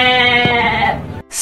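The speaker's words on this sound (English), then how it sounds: "Sheep." A sheep bleats once, a loud, close, sustained and wavering call that cuts off abruptly, followed by a brief burst of hiss.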